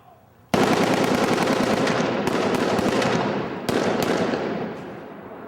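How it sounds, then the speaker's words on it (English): Sustained bursts of rapid automatic gunfire on a film set during an action scene shoot, loud and close, with a brief break and a second long volley before it trails off. "You fire 2 or 3 times. Then you die."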